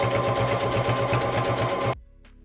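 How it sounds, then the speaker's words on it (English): A sewing machine stitches a blanket hoodie at a moderate pace with a rapid, even mechanical chatter, then stops abruptly, leaving near silence. "you never need to go fast when it comes to sewing this type of stuff"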